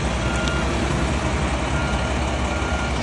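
A truck on a pole barn house construction site sounds a steady, repeating reversing beep over a loud, continuous engine rumble, with no voices.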